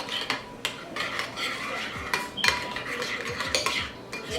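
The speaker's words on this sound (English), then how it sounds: "I'm just gonna mix all of that together until it's combined really well" A spoon stirring soy sauce into a honey chipotle wing sauce in a bowl, with repeated clinks and scrapes of metal against the dish at a close, fairly quiet level and no talking.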